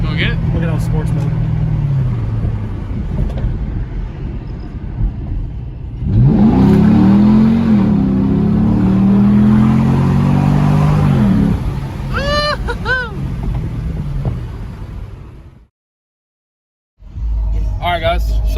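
A car with stock exhaust and resonators accelerates in sports mode, the engine note rising hard through a gear for several seconds, then a brief shift and cutoff; people talk inside the cabin before and after.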